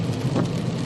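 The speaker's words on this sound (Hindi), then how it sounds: "बारिश हो रही थी" Rain falls in a steady, dense hiss with a low rumble underneath, heard briefly and fairly loud as atmosphere behind a horror story.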